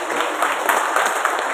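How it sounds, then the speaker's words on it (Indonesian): Guests at a village head inauguration ceremony in Banyumas applaud, a dense, steady wash of many hands clapping together, fairly loud and continuous with no talking over it. "Tepuk tangan untuk kita semuanya."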